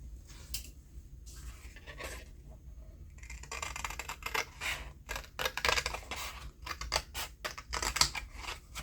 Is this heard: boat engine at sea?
no